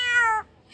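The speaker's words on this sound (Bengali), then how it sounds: "আবার বিড়াল বিড়াল" A cat's meow played back from a recording, one clear, loud, rising-and-falling call lasting under half a second, followed by near silence and a faint rustle.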